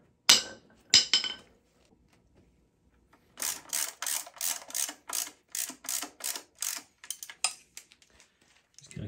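Close ratchet clicks come in a quick, even run of about a dozen strokes as mount bolts are tightened on a 1974 Yamaha DT360A motorcycle, preceded by two short metallic clinks and a pause.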